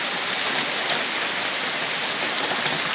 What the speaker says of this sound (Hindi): ये पूरा बारिश।